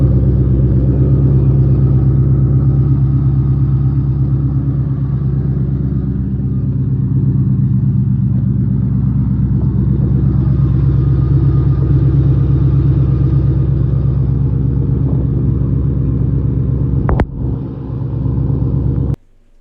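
A Ford Mustang GT V8 engine drones steadily under load, a loud, continuous deep rumble with a subtle irregularity, ending in a brief clunk before cutting off.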